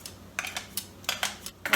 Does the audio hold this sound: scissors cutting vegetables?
yes